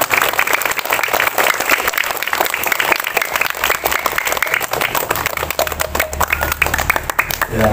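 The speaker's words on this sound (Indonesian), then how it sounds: "Kita berikan tepuk tangan dulu kepada Pak petugas upacara." A crowd of students and staff claps steadily at a Monday school flag ceremony in Indonesia, a dense, continuous round of applause that holds at full level throughout without a break.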